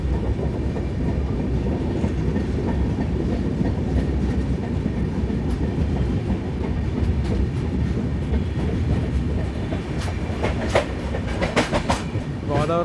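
The Swarnajayanti superfast express, train 12804, running near Godavari railway station, a loud continuous rumble with rhythmic clickety-clack of wheels on rail joints and a brief squeal toward the end.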